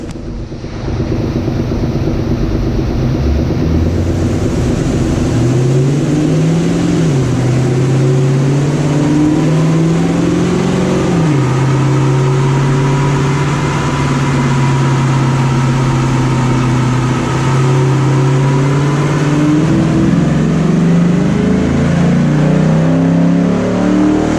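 A Chrysler 300 SRT8 engine on a dyno run, roaring loud and close as its pitch climbs and dips through several revving surges over a sustained full-throttle pull, with no talking.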